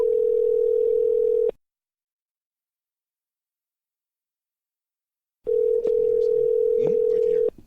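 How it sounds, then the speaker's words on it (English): On an outgoing phone call, two long steady ringback tones sound, each about a second and a half to two seconds long, separated by several seconds of silence, with faint background voices during the second tone. "let's dial it up."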